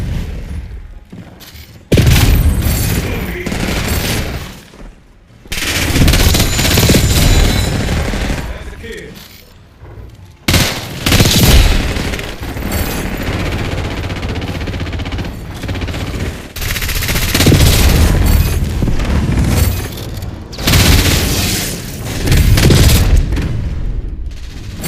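Loud, dense gunfire in Call of Duty Black Ops 6: sustained automatic bursts and booming impacts come in long stretches, broken by brief lulls, with occasional speech over the top.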